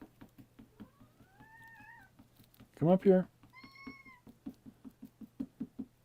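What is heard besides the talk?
new cat meowing, squeaky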